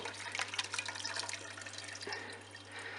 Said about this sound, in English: I'm gonna strain it on a sieve slowly